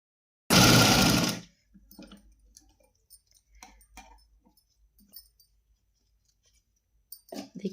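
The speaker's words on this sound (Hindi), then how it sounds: "चलिए तो तीनों साइड पर हम सिलाई लगाते हैं।" A sewing machine runs in one loud burst at the start while stitching thin white lining fabric along three sides for a small deity dress, followed by quiet handling clicks and faint rustling, then a brief return at the end.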